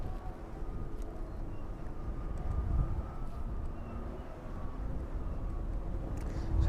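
An aircraft starting its engines on the apron at East Midlands Airport in the evening, a faint, distant steady whine and rumble building slowly beneath a continuous outdoor hum.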